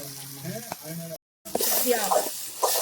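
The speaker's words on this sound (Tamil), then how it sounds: "தக்காளி வெங்காயம் நல்லா வதங்கிருச்சுன்னு பார்த்தீங்கன்னா" Tomato and onion sauté in a pan, a steady sizzle with stirring scrapes after a brief dropout, preceded by a short moment of low talk.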